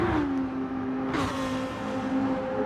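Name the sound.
race cars driving on track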